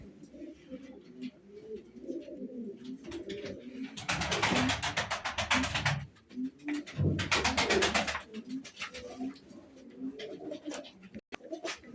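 Pigeons coo softly in a steady low murmur, several birds close together, with bursts of loud wing flapping around the middle and someone speaking faintly under the cooing.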